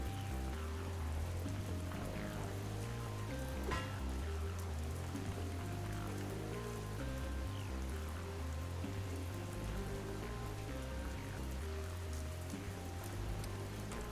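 Steady rain falls in a video game, a constant even patter on surfaces under a low droning hum, moderately loud and unbroken throughout.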